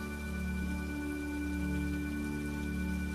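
Steady rainfall, a soft, even hiss with a low hum and tonal drone layered underneath throughout.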